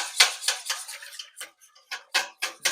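A utensil clinks and scrapes against a bowl while mixing bibingka batter with egg, making a run of bright, uneven taps close by.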